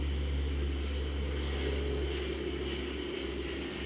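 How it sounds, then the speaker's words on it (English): A propeller plane passes overhead as a steady, continuous engine drone with low rumble, holding even loudness for about four seconds with no speech. "Okay, plane go by."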